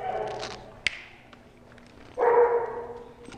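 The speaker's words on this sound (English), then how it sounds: "Another dog barked right at her." A dog barks at a muzzled pit bull, with a couple of short barks nearby, one sharp and one fuller, over light background noise.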